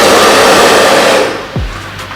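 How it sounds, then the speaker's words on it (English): A blow dryer runs loud and steady with a broad airy roar while drying gelled hair edges during a frontal wig install, then cuts off abruptly about two-thirds through, leaving a faint low hum. "then you just take the blow dryer and then just dry it."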